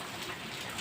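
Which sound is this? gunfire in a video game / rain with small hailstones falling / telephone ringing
rain with small hailstones falling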